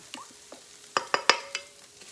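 Chorizo and egg stirred in a frying pan over low heat: a faint sizzle under a handful of sharp spatula scrapes and taps, clustered in quick succession, nearby and alone.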